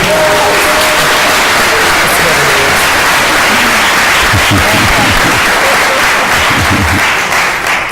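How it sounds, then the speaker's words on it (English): Soccer fans packed into an Orlando city council meeting give themselves a round of applause, loud sustained clapping from a large crowd with voices and cheers mixed in throughout. "Thank you to all the soccer fans here today. Give yourself a round of applause"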